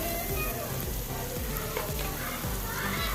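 Sliced onions sizzle in a pan after green chillies have gone in, with a steady frying hiss and a few soft stirring scrapes as a capsicum dish is cooked. The frying is close and continuous, with no talking.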